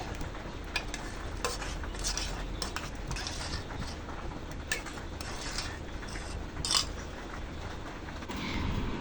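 Cooked khichuri being mashed with a masher inside a pot, a steady run of close scraping, squelching and clinking strokes with no voices.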